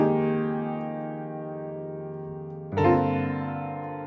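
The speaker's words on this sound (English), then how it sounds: "It's a minor 11th voicing." A sustained minor 11th piano chord rings out and slowly decays, then a second, brighter chord is struck about two-thirds through and sustains.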